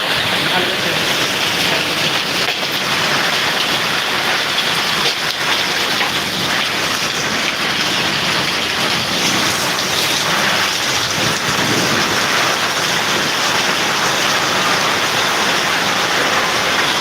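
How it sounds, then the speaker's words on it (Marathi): Steady rain with a windstorm in Jalgaon after hail and thunder, a dense continuous wash of rainfall and gusting wind heard close and unbroken throughout. "जळगाव येथे पावसाला सुरुवात झालेली आहे आपण बघू शकतात वारा वादळ हे सुरू आहे"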